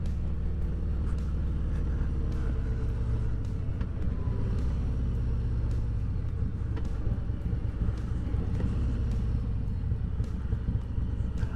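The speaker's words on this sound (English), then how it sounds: "It's got Reinhardt's on it. Doesn't seem very loud compared to my bike. It's pretty quiet." A Harley Road Glide fitted with Rinehart exhaust rumbles steadily while being ridden, a low, fairly subdued engine drone mixed with wind buffeting on the microphone, constant throughout with no talking.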